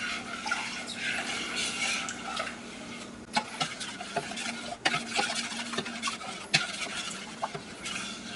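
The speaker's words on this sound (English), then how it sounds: "You need to stir it consistently to keep it from sticking to the bottom of the pan." A spoon stirs coconut cream pie filling in a pan, scraping steadily against the bottom with a soft bubbling sizzle and occasional sharper taps of utensil on metal, close up with no talk.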